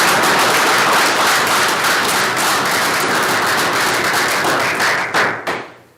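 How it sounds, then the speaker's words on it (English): Loud, dense applause from an audience at a school district governing board meeting, honoring a classified employee of the month, steady throughout and tapering off near the end. "Let's give her a round of applause."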